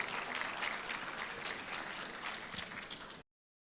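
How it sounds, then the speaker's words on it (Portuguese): An audience at a public-administration conference panel claps in a steady wash of applause for about three seconds before it cuts off abruptly. "Uma salva de palmas."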